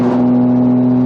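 A tuned Toyota Supra engine hums steadily at a held rev during a gear shift, a loud, close, sustained tone heard from inside the car.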